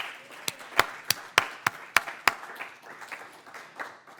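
Audience at a public library poetry reading claps after a bilingual performance, a few sharp, distinct claps in an irregular rhythm that thin into scattered lighter clapping.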